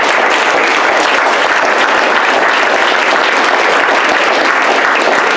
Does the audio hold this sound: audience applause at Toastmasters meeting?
yes